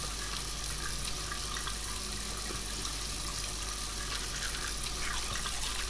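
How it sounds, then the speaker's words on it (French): Someone brushes their teeth at a sink in the video game Heavy Rain, with a running tap giving a steady, even hiss of flowing water that carries on without a break. "je me brosse quand même les dents."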